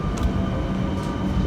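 A train rumbles loud and close, a steady low roar with rolling mechanical texture that holds throughout the short stretch.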